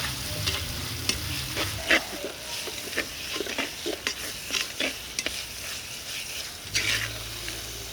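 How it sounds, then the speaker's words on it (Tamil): Masala for a chickpea kulambu fries in hot oil while a spoon stirs it, sharp scrapes and clicks over a steady sizzle that swells loudly at the start and end. No one speaks. "எண்ணெயிலே திருப்பியும் மசாலையை வறுக்கணும்."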